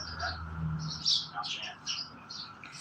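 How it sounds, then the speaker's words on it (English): Small birds chirp outdoors in quick, bright bursts of tweets scattered across the moment, at moderate distance over a low ambient hum. "can you hear all the little birds chirping?"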